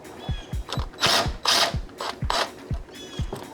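Ratchet wrench turning a 13mm brake line bracket bolt on a Hyundai Veloster N, a run of quick, close clicking strokes broken by short louder bursts of wrenching.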